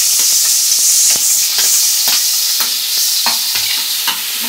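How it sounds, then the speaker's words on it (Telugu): Chopped onions and cumin seeds fry in hot oil, a steady loud sizzle overlaid with repeated stirring scrapes of a utensil against the pan, all near and continuous with no voices. "వేయించుకున్న తర్వాత దాంట్లో ఉల్లిపాయ ముక్కలు వేసుకుందాం."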